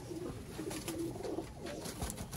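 Pigeons of the Master Abdullah moti line, rare Sialkoti breed, coo softly in a loft, low repeated murmuring calls over a steady background hum, fairly near and quiet.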